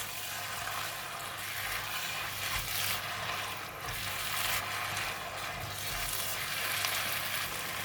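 Tom yum fried noodles (mee goreng tom yum) cooking in a covered pan give off a steady, even sizzle that hisses on without pause, with no talking.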